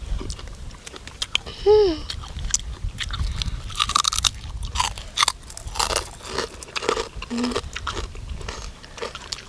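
Close, wet chewing and loud crunching of raw blue crab papaya salad seasoned with fermented fish sauce, with irregular bites, shell cracks and scraping over several seconds, accompanied by a few brief vocal sounds.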